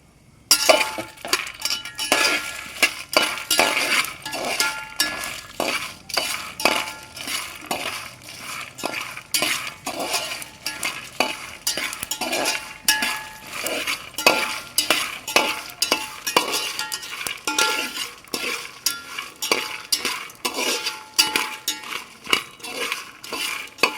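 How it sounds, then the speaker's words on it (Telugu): Okra and garlic frying in a pan, stirred with a metal spatula: steady sizzle under rapid, repeated clinks and scrapes against the pan, close and busy throughout, no voices. "ఇవంతా బాగా ఫ్రై అవ్వాలి."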